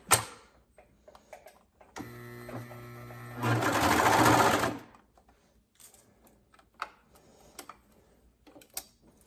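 A sewing machine stitches ribbing onto a garment neckline in one short steady whirring run of about three seconds, close and fairly quiet, among scattered clicks and handling noises.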